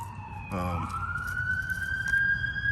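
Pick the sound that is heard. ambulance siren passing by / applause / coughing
ambulance siren passing by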